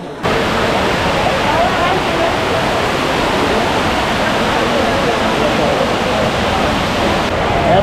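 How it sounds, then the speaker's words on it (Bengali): A muddy mountain waterfall on Chandranath hill in Chittagong pours down in heavy rain, making a loud, unbroken rushing roar that fills the whole scene up close. "এখানে পাহাড়ি ঝর্ণা যেটা দেখা যাচ্ছে, যদিও ঘোলা পানি, কিন্তু এটা এত প্রলয়ঙ্কারীভাবে নেমে আসতেছে"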